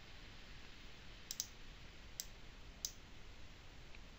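A computer mouse gives a few faint, sharp clicks, one close pair followed by two single clicks, over a quiet steady background hiss.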